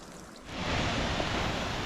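Water seeping and trickling down a mossy rock wall in a damp gorge, a soft broadband wash that swells after a brief quieter moment and holds steady and close.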